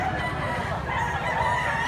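A gamecock rooster, a young stag, crows loudly and close, with clucking fowl around it on a farm and no clear talk.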